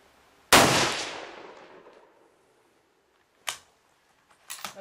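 A single loud gunshot fired at a target, a sharp crack with a long decaying echo, followed by two more faint distant bangs, no talking.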